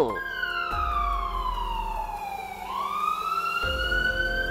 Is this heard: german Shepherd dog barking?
no